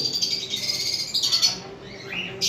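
Pet cockatiels, sun conures and turquoisines in a farm cage give bright, repeated chirps and squawks, loud and close, several calls overlapping with no speech.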